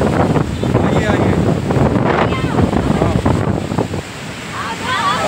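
Heavy roar of water surging from a released dam at Lalitpur, loud and continuous with wind buffeting, as a crowd of onlookers talks and calls out nearby.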